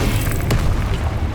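A Confringo blasting spell explodes in the Hogwarts Legacy game, a loud booming burst with a sharp crack near the middle over a constant rumbling background.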